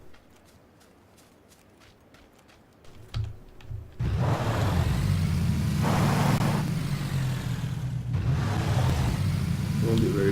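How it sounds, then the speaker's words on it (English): A vehicle in PUBG starts up with a steady, loud engine drone that runs on for several seconds. It comes after a stretch of keyboard clicks and game footsteps. "I could take the vehicle and see how far I can get across the road."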